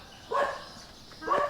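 Two sharp barks from a stray dog on a mountain in Phatthalung, Thailand, roughly a second apart, mid-distance and moderately loud against a quiet outdoor backdrop.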